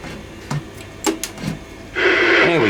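An old CB radio is plugged in and switched on: after a few faint clicks and taps, a loud steady burst of hissing, buzzing static cuts in and holds to the end.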